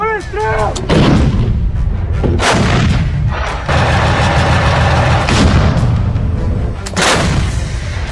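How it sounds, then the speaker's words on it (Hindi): A Russian 2S7 Pion self-propelled artillery gun fires in the field, loud booming blasts repeating several times over the clip, each with a heavy rolling rumble, with faint voices in between. "परमाणु बम गिराने वाली रूस की ये तोप कैसे आग उगलती है, इसे देख लीजिए।"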